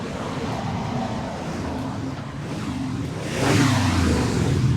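A 1967 Chevrolet Camaro convertible drives by with a steady engine rumble and road noise that swells louder and closer toward the end.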